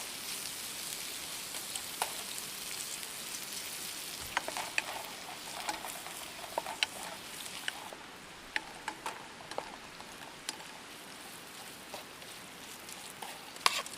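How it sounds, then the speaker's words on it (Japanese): Bacon sizzles and crackles steadily in a frying pan while camp cooking, a soft constant fry broken by scattered sharp pops, with no talking. "ベーコンをフライパンに入れ、じっくりと端がカリカリになり始めるぐらいまで焼いていきます。"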